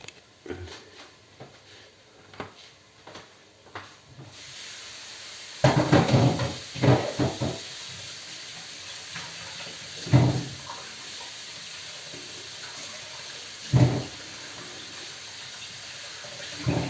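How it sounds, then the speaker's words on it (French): Mushrooms rinsed under a running kitchen tap, a continuous hiss of flowing water that swells louder midway, with intermittent splashes and soft knocks as they are handled. "Je vais rincer les champignons."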